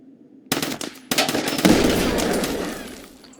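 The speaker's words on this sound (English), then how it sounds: "That's just grenade launcher, boy." A grenade launcher fires in Escape From Tarkov, the close, sharp launch followed by a second report and a loud rolling blast that trails off over a couple of seconds, with no talk.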